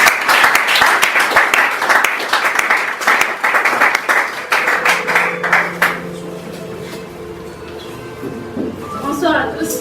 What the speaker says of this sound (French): on va aussi applaudir pour l'encourager.